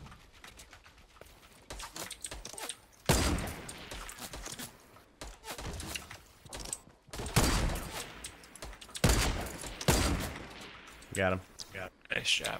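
Gunfire in Fortnite Battle Royale, several bursts of rapid shots and heavy blasts in clusters, loud against quieter game ambience, with players talking over parts of it.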